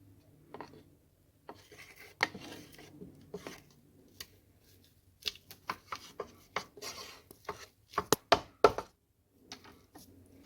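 A spurtle scraping down the sides of a blender jar: soft rubbing strokes and quick dry scrapes and taps at irregular intervals, closely miked and quiet, with no voices.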